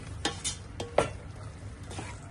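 A spoon scrapes and taps against a pot as vegetables for vangi bath are stirred, a few quiet, uneven strokes over a soft background hiss.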